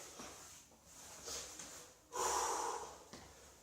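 A person breathes heavily while recovering from exercise, with several loud snorting inhales and gasping exhales in an uneven rhythm, close and alone.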